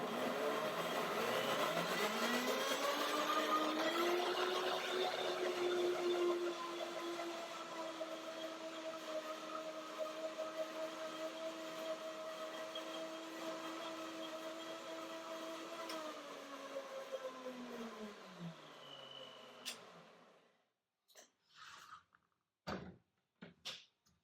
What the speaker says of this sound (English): a power blender, Revo blend.